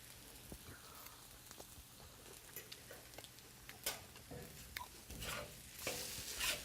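Pad Thai with bean sprouts is stir-fried in a pan, a faint continuous sizzle with clicking utensil scrapes and tossing bursts growing louder toward the end, with no speech.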